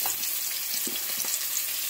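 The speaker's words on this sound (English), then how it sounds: "You want to hear a sizzle just like that." Granny Smith apples frying in a hot, lightly oiled pan, giving a steady, close hiss of sizzling with small crackles and pops and no talk.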